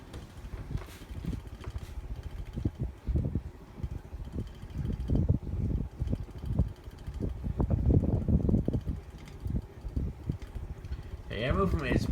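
A Dynasty Hugger ceiling fan with cane blades and a schoolhouse globe runs nearby, its air movement buffeting the microphone as a steady rushing whoosh with gusty low thumps throughout.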